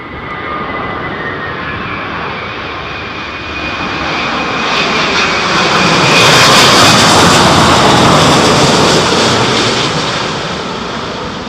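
Loud Boeing 787-10 jet engines roaring steadily, swelling as the plane passes close overhead at London Heathrow Airport during a storm and then easing slightly, with a broad rushing whine.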